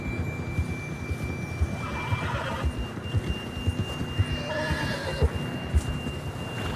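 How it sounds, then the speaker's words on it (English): Galloping hooves thud in a steady rhythm while a horse whinnies now and then in the video game Red Dead Redemption 2, under a faint tonal hum. "John was riding that horse when we left Blackwater."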